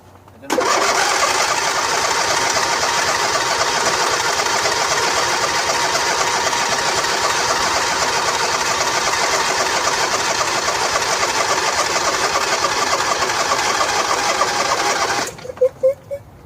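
A John Deere L118 lawn tractor with a Briggs & Stratton Entek 22 HP twin engine starts and runs loudly and steadily for about fifteen seconds, then cuts off abruptly, leaving faint sputters and quiet.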